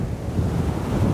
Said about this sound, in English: the light and the waves moving up onto the rocks like that